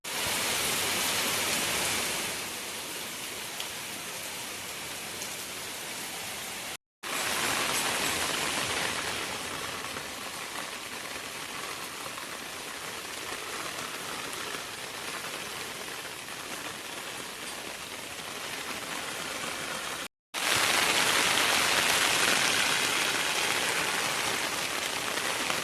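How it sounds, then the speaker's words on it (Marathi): Heavy rain pours outdoors in a Konkan village, a steady dense hiss of drops on surfaces that runs continuously and loud, with two brief cuts and a slightly brighter, harder downpour near the end. "इतकं पाऊस येता ना आमका वाटतं आज भिजतच जाऊचं लागतं, कारण इतकं जोरात लागता ना पाऊस"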